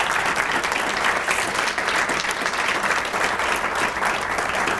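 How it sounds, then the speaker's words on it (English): An audience at a credit union talk gives the speaker another round of applause, a loud, sustained, even burst of many hands clapping close by with no talking. "Let's give her another round of applause."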